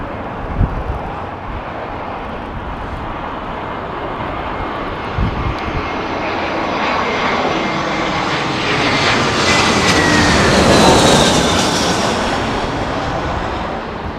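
An airliner lands in a stormy crosswind at London Heathrow, its engine roar swelling and fading over the runway amid gusting wind noise, loud and continuous with a rising whine midway.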